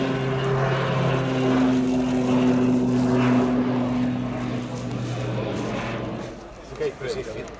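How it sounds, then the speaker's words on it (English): A Slovenian Air Force fixed-wing propeller aircraft flies a display at an air show, its engine drone holding steady and strong beneath a commentator's voice before easing toward the end. "these are the most potent fixed-wing aircraft in the Slovenian inventory"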